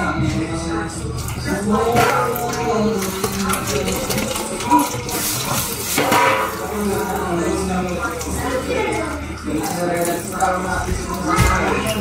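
Tap water runs steadily into a sink while something is washed by hand, splashing and gurgling close by under ongoing casual talk.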